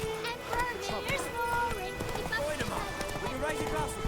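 Roach, the horse in Witcher 3, gallops with quick, steady clip-clop hoofbeats throughout, while voices talk over the game sound.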